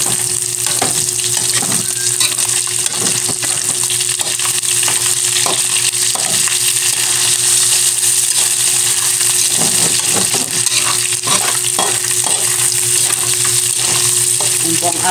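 Chicken liver and gizzards frying in hot oil for adobo, a loud, dense crackling sizzle with constant splattering pops and stirring scrapes, close up and unbroken, with no voices.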